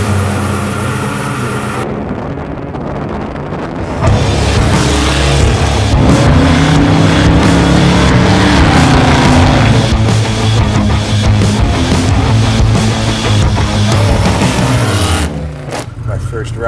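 A custom supercharged 1971 Chevy Nova cruises through a neighborhood, its engine a loud, steady low rumble with shifting revs heard from inside the car, while people talk over it.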